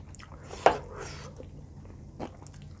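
Papaya salad (som tam) loaded with fresh vegetables is eaten close to the microphone. A sharp crunchy bite is followed by softer chewing and another faint crunch.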